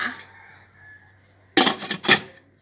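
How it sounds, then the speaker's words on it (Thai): A metal pot lid clatters shut over two kilograms of mussels layered on kaffir lime leaves, giving two loud clanging bursts close by after a quieter stretch. "แล้วก็ปิดฝา"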